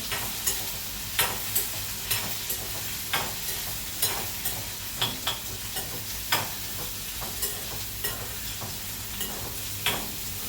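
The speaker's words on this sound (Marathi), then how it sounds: "भेंडी टाकून झाली की छान मिक्स करून घ्यायचं" Okra is stirred in a pan where it fries, and a spoon scrapes and taps in a regular rhythm of roughly two strokes a second over a steady close sizzle, with no voices.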